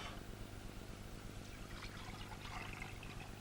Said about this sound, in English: I'm pouring the chicken stock